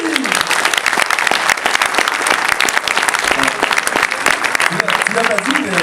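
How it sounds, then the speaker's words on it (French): An audience applauding at a cosplay contest, loud sustained clapping from a crowd throughout, with some cheering and voices mixed in. "Je vous demande d'applaudir très très fort."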